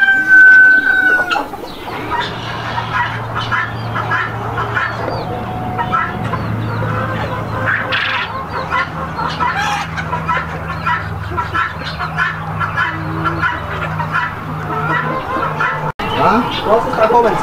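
Native hens in a farm coop cluck steadily and close by, with a rooster crowing at times, while people talk over the flock.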